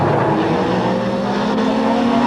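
In-car sound from a 1989 British Touring Car Championship race car driven by Cleland with a tyre problem: a loud, constant engine drone close up, unbroken throughout.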